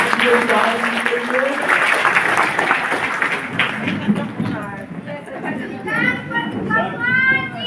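A crowd at a meeting breaks into loud clapping that runs for several seconds alongside shouting voices, then thins out as chatter and a few whistle-like calls take over.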